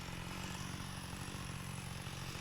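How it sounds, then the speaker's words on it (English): In the VR video game Brutalistick, a chainsaw weapon runs in a continuous, even buzzing drone, faint and unbroken throughout. "This is the chainsaw McGee weapon"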